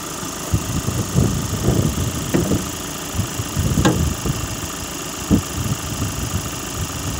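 A 2019 Ford S-Max with automatic transmission idles steadily, a low mechanical rumble with a few sharper knocks and clicks scattered through it, fairly close.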